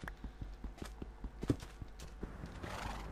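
Minecraft horses: blocky hooves clip-clop in a steady walking rhythm, and a short whinny cuts in midway. The sound is quiet and close.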